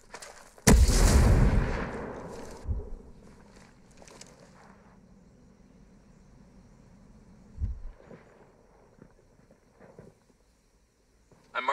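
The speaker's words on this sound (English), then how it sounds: "Throwing a frag! Grenade, take cover!" A frag grenade blast in the video game Ghost Recon Breakpoint erupts loud and close, its rumble decaying over seconds, followed by scattered distant gunshots and another muffled boom amid quiet wind.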